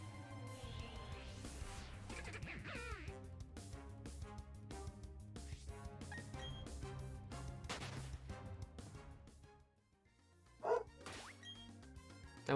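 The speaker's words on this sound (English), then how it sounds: "That was my dog, not me." A dog barks in a brief burst over continuous background music, with no talking.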